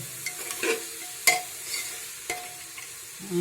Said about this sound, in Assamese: পিঁয়াজ পাতখিনি দি আকৌ প্ৰায় আধা মিনিট সময় লৰাই দিলে হ'ল।